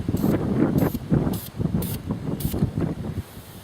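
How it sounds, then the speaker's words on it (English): Spray paint can priming miniatures outdoors, five short hissing spray bursts in a steady rhythm over a low rumble of outdoor wind noise, close and moderately loud, with no talk. "we're also trying to spray with the wind, so our spray paint is not trying to fight against the wind"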